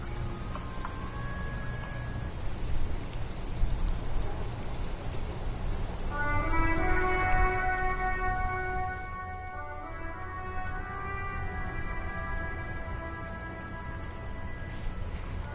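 Rain falls in a video game as a steady, even hiss of drops, with a musical chime entering partway through over the constant downpour.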